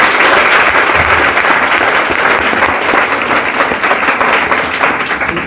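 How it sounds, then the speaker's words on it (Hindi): An audience gives a loud, sustained round of applause at a training seminar, many hands clapping densely and evenly for several seconds, close and filling the room. "एक बार लोकेश जी के लिए जोरदार ताली बजाओ"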